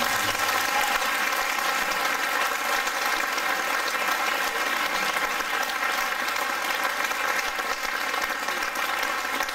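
A large festival crowd applauds steadily and loudly, a dense continuous clapping that holds throughout without any voices standing out.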